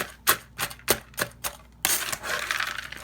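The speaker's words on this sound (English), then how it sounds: "You just mix these all up real good, continuously breaking the cornbread down." Cornbread for dressing is mixed and broken up in a container, first a series of five or six distinct knocks and scrapes, then a denser, continuous scraping and stirring, close and moderately loud with no voices.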